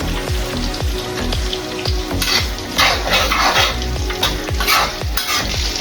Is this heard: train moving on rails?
no